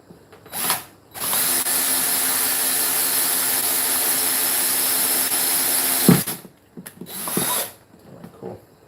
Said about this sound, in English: let me punch a hole through here and come out the other end